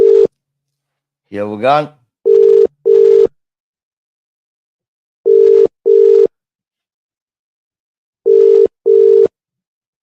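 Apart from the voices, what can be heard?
telephone call tone, unanswered phone call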